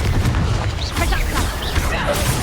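Confringo explosive spell going off in the Hogwarts Legacy video game, a dense burst of blasts and crackling impacts mixed with combat sounds, loud and close throughout, with a voice talking over it.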